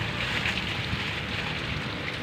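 Steady rain falling on a cool rainy day, a dense, even hiss without pauses throughout, close by and moderately loud, with no voices.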